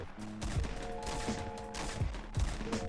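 Bursts of video game gunfire from a Fortnite battle royale match pop in quick repeated volleys, mid-distance and moderately loud, over a steady background of game ambience and tonal effects.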